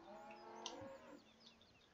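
A cow in Farming Simulator 17 lets out a single drawn-out moo, fairly close and clear over a faint farm background, with no talking.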